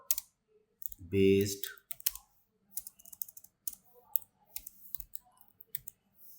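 Computer keyboard typing in short clustered bursts of soft clicks, close and quiet, interleaved with someone speaking during a software tutorial.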